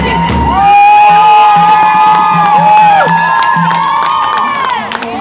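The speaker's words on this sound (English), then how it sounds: "just from the cheer and round of applause, it's obvious that she doesn't need an introduction" A loud crowd at a Free Palestine rally cheers, whoops and shouts in a sustained roar of voices that rises and lingers for several seconds.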